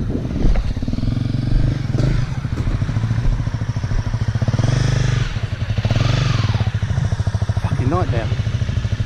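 Motorcycle engine running steadily while riding a soft, boggy trail, a continuous rumbling drone with throttle surges, loud and close, with people talking over it throughout.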